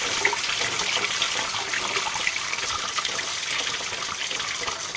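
Coolant drains out of a new car radiator in a steady, close gushing flow that splashes continuously, with no voices.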